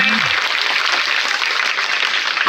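Crowd applause at a village panchayat event welcoming the village head, a dense, steady wash of many hands clapping that holds evenly loud throughout, with no voices on top.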